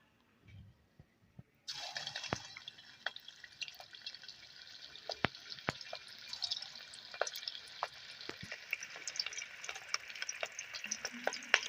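Koftas frying in hot ghee: after a brief near-silent start, a sudden bright sizzle sets in and holds steady, dotted with frequent sharp pops and crackles, close by and without talk.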